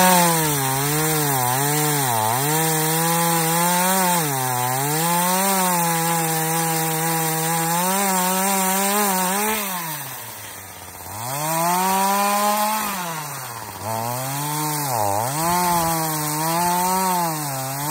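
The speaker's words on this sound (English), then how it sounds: "It's always recommended to use ear protection, eye protection, and gloves while using a chainsaw." Chainsaw cutting through an old cedar tree downed in a severe thunderstorm, engine droning loudly and continuously, pitch rising and dipping as the chain bites and throttle changes, with no voices.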